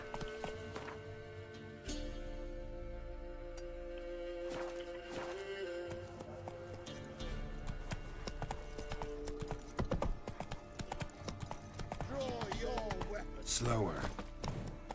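Roach the horse's hooves clip-clop steadily at a trot in Witcher 3, a continuous rhythmic patter under game music and ambience, with a brief whinny near the end.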